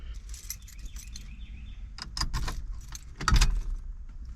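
Bunch of keys jangling inside a 1969 Pontiac Catalina wagon, repeated metallic clinks and rattles with a few louder handling clunks, close up over a low background rumble.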